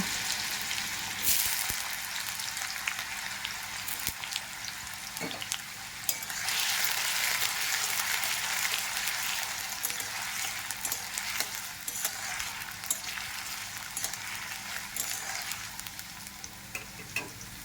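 Diced potatoes fry in a pan with whole mustard seeds, curry leaves and chopped garlic, a steady close sizzle with popping crackles and occasional stirring scrapes that swell partway through, with no voices over it.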